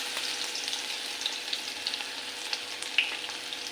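Garlic frying in hot oil in a home kitchen, with a steady broadband sizzle and crackle throughout, a few sharper pops standing out, and no talking.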